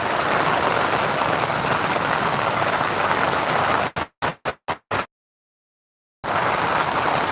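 Heavy rain pours steadily in Hong Kong, a dense close wash of drops, then a few choppy bursts before cutting to silence and returning.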